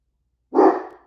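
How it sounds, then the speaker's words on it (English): A large dog lets out one loud, close bark indoors at home; the sharp burst starts abruptly and trails off within half a second, with no other sound around it. "The whole house shakes when he barks."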